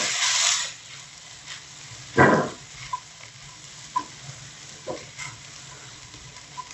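Kothu parotta with masala sizzles in a frying pan as a spoon stirs it, giving a loud scrape and then several shorter scraping knocks against the pan over a constant frying hiss.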